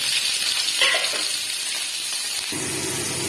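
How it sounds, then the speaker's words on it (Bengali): A steady, loud hiss of paneer frying in hot white oil, continuous throughout, with a brief clink partway through and no talking. "এতে পনিরগুলো হালকা লাল করে ভেজে নেব।"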